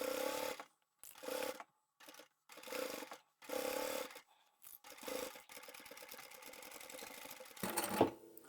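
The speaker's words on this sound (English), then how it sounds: "go forward and back and just sew over that end there where I'm going to cut out the fabric" A sewing machine stitches forward and back over the end of a fabric seam, giving short, close bursts of rapid mechanical whirring separated by pauses, then a longer, quieter run and a brief clattering burst.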